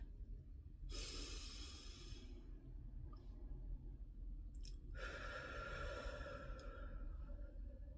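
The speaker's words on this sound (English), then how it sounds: "Take a deep breath." A slow, deep breath drawn in and let out during a calm guided grounding meditation, two long soft airy swells over a steady low background hum.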